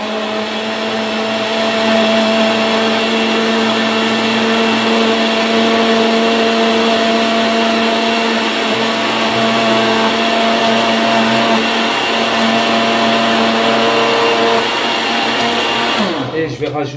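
A blender runs steadily and loudly for about sixteen seconds, whirring through an almond milk fitness dessert, then cuts off abruptly near the end.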